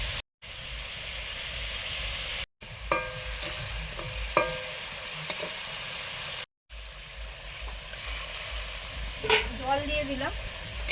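Fish added to a pan for a sour fish curry, frying with a steady hiss and sizzle, with light clinks of stirring and brief gaps in the sound.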